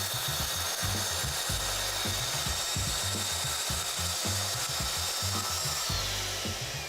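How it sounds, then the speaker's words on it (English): A Festool TS55F track saw fitted with a 42-tooth crosscut blade rips along an 18 mm board, giving a steady, continuous mid-loud cutting whine with a rhythmic grinding pulse beneath it and no talking. "I'm going to be using the TS55F with the 42 tooth crosscut blade"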